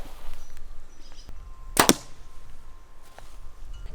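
An arrow tipped with a broadhead strikes a target during a broadhead destruction test, a single sharp double-cracked impact near the middle, loud against a quiet outdoor background with no talking.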